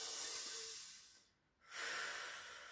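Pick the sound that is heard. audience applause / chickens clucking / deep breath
deep breath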